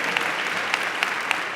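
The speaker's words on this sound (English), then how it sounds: "Nice round of applause for her." Audience applause at a road safety awards event, a dense wash of steady clapping with a few sharper claps standing out, fairly loud and close throughout.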